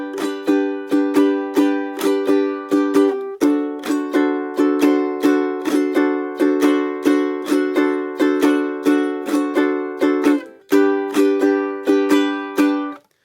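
A ukulele plays a simplified island strum that drops the final upstroke; crisp, evenly rhythmic strums ring out close and alone, with a brief pause before the pattern resumes.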